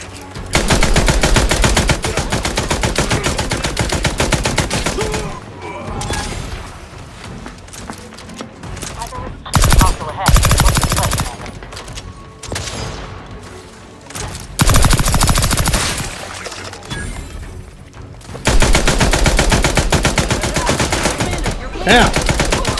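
Loud, sustained automatic gunfire rattles in long bursts during combat in The Outer Worlds 2, with short pauses between volleys. Single shots and impacts stand out, and brief speech can be heard in the gaps.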